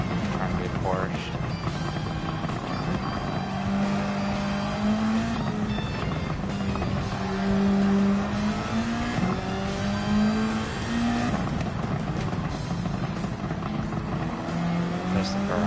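Race car engines in Gran Turismo 7 whine and rise through gears, with a Lexus and a Ferrari nearby, revving continuously with shifting pitch and occasional tire noise while someone talks over the action.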